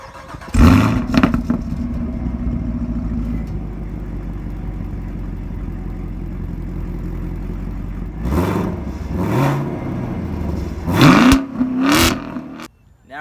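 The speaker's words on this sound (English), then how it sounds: "Up first, we're going to start it in touring mode, get a few revs. This is the stealth mode of the exhaust system." A 2018 Chevrolet Camaro SS 1LE V8 with its exhaust set to the quiet stealth mode fires up and settles into a steady idle, then gets several sharp throttle blips near the end, each rising and falling quickly.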